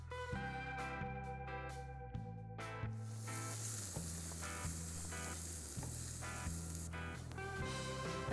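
An onion browns in a pan with a soft, steady sizzle that rises partway through, heard faintly beneath prominent background music.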